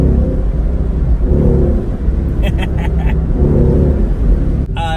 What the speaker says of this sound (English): I like the initial torque grunt that you get out of it.